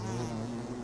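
Steady, close bee buzzing from the Don't Starve video game, a continuous droning hum with no breaks and no talking over it.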